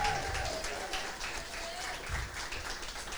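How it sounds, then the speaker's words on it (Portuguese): A church congregation claps during a worship service, a short burst of even, sustained applause filling the room over a low background rumble. "aplauda o Senhor, dê a Ele um brado de júbilo"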